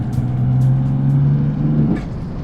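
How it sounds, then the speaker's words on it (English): Car engine on the overrun in a driving game, a steady droning engine note holding for about two seconds before dropping off, with a faint crackle as it lifts. "this car gives you crazy pops on the overrun."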